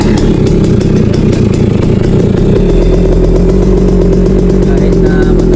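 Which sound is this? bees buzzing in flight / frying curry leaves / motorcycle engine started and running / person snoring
motorcycle engine started and running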